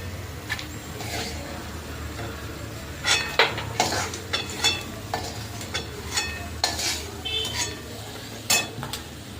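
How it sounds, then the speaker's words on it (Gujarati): Fried peanuts are scraped and stirred from a pan into a bowl, with a run of close metallic scrapes and clinks over a faint sizzle, busiest in the second half. "બધા સિંગદાણા આપણે એમાં કાઢી લઈશું."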